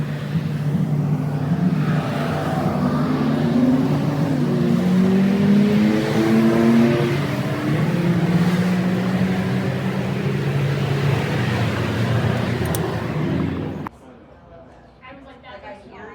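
A car engine drones loud and steady with rising and falling revs as the vehicle drives, then cuts off abruptly near the end, leaving a quiet interior hum.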